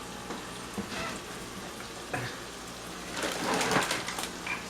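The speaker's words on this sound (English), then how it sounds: "I have a pound of hamburger with a fourth of an onion chopped up in it that we're going to brown and then drain." A pound of hamburger meat with a quarter of a chopped onion browns in a pan, giving a soft, steady sizzle with scraping stirs, growing louder and busier toward the end.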